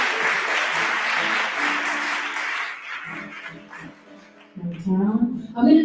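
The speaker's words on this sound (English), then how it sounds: "Give yourselves a round of applause for being here today." Crowd applause at an interfaith concert fills the first three seconds as a dense, steady clatter of clapping, then fades out while tonal sounds and voices take over toward the end.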